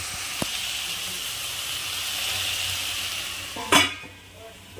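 Spring onion greens and capsicum sizzle and hiss steadily in a hot pan, with a couple of sharp clinks of a utensil against the pan.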